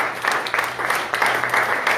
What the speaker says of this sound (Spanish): Démonos un fuerte aplauso al Señor.